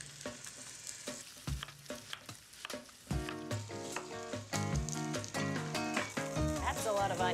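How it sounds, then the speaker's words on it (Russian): Meat frying in a pan while onion, carrot and celery are prepared for a sauce, a steady sizzle running under loud kitchen clatter, stirring and chopping knocks, with music-like tonal bursts on top. "Пока жарится мясо"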